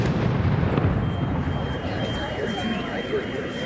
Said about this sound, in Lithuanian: skiriame simbolinį patrankos šūvį